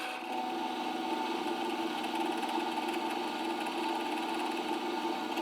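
A drill whines steadily as it bores holes in steel and brass on a boat project, one continuous close, loud mechanical drone with no breaks or talking.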